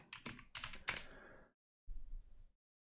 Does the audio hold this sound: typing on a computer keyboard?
yes